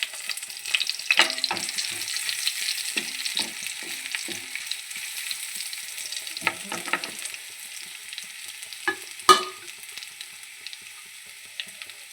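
Ginger garlic paste frying in a hot pan gives a steady, close sizzle. Scattered stirring scrapes and clinks run through it, with one sharp louder clatter near the end.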